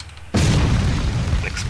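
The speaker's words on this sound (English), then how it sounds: "Next one is explosion. You saw me use this earlier, it's really good for bosses." An explosion ability goes off in a video game, a sudden loud boom that cuts in after a quiet moment and then rolls on as a sustained rumbling blast.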